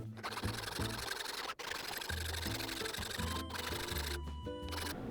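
Fret ends on a 1970 Gibson J-200 acoustic guitar are beveled with a small motorized tool, giving a close, buzzing whine in stuttering bursts that stop briefly and restart.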